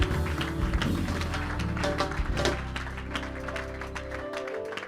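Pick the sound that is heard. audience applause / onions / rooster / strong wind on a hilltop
audience applause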